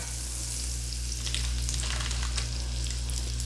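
Six tablespoons of butter sizzle steadily in a frying pan, a continuous close crackling hiss with no talk.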